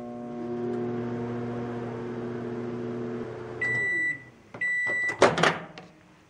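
A microwave oven running with insulators and metal inside hums steadily, then cuts off with a chime-like beep and a door clunk, followed by more beeping and clatter.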